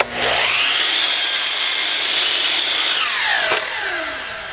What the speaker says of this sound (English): press the wood against the blade so that the blade flexes a little bit, and that just gives us a nice little cut